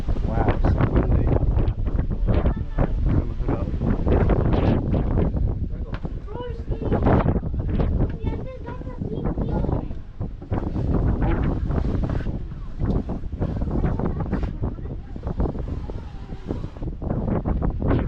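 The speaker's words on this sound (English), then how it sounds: "Wow, so windy." Strong storm gusts at Caernarfon Castle in Wales buffet the microphone with heavy, rumbling roaring throughout, loud and constant, with a voice briefly heard under it.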